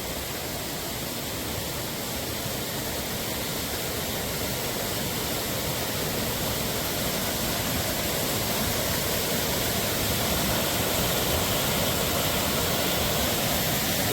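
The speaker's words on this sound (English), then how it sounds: "That's some serious brown water." Rushing stream of muddy brown water along the Appalachian Trail, a steady loud broadband roar of flowing water that continues unbroken throughout.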